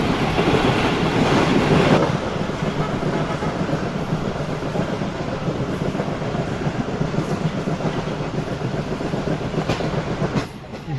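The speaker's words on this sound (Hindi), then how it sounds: "भाई काफ़ी अच्छी स्पीड में स्किप किया ट्रेन ने लानी जंक्शन को।" The Karakoram Express runs at speed in economy class during winter, a continuous loud rumble with rhythmic clickety-clack of wheels over the rails, heard from inside the carriage, easing slightly near the end.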